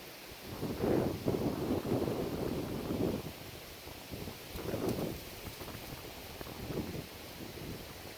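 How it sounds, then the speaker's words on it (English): Wind gusts through the treetops in the woods during a deer hunt, rising and falling in broad, rushing surges, strongest early on and then fading to a steadier background roar, with no talk. "Can you hear the wind?"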